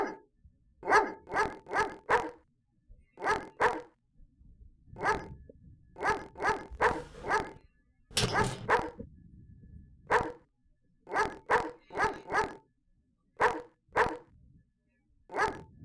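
A dog in the Phantasmagoria video game barks in quick clusters of two to four sharp yaps, with softer whimpers between bursts, loud and close against near silence.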